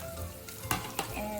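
Bok choy fries in a pot with ginger and garlic, a close, continuous sizzle broken by two sharp crackling bursts, as if the greens are stirred in the hot oil.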